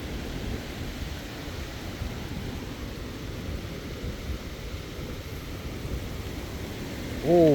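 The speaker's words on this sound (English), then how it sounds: "that rain's heavy" Heavy rain pours in strong wind, a constant dense hiss with low rumbling underneath that stays even throughout, and a short vocal sound appears right at the end.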